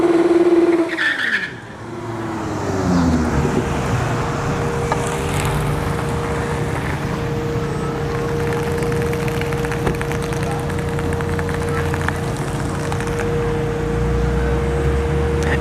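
A Lexus sedan on a drag strip at a test-and-tune session: a brief sweeping whine at the start gives way to a loud, steady engine drone with a sustained humming tone.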